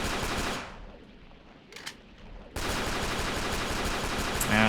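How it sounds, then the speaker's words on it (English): Rapid gunfire in the video game The 3rd Birthday, dense continuous bursts of shots that drop out briefly midway and then resume loud and sustained, with no talking. "I'll just use the pistol"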